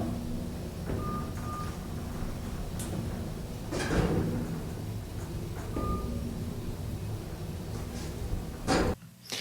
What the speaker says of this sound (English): And you can hear in that recording the beeping of the buttons as they pass the floors